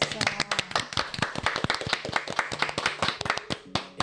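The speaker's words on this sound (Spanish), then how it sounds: "Un aplauso." Hand clapping from an audience at a talk, a burst of sharp, irregular claps close by that stays fairly loud throughout.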